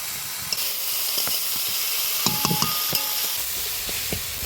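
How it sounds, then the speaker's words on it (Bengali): Potato, eggplant and shrimp greens with turmeric, chili powder and salt are stirred in a frying pan over a constant hissing sizzle, with scattered clinks and scrapes of the utensil up close. "এবার ভালো করে নাড়িয়ে নিব।"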